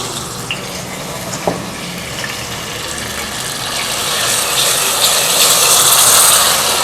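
Water running and poured into a pan of sugar to make syrup for zarda, a steady splashing stream that swells louder toward the end, with a couple of small metallic knocks.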